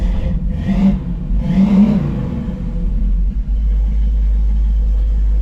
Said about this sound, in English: We're gonna let this thing idle for a little bit.